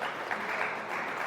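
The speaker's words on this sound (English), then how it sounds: "can we give them a clap of welcome?" An audience at an evening church gathering gives steady applause of welcome, a dense even wash of clapping from a crowd.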